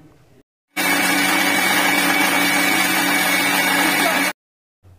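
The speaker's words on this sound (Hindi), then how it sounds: "पानी डालने के बाद मिक्सी को बिना रोके लगातार पीसना है।" A kitchen mixer grinder runs continuously for about three and a half seconds grinding moong dal with water, a loud, dense whirring roar that starts and stops abruptly, with faint quiet before and after.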